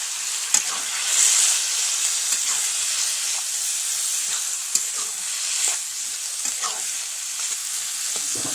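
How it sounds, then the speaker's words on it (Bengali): Boiled cabbage hits hot spiced oil in a village-style Bengali pan, sending up a loud, continuous sizzle and hiss with occasional crackles and stirring clicks. "তো মশলা থেকে তেলটা ছেড়ে দিয়েছে, কপি সিদ্ধটা ঢেলে দেবো।"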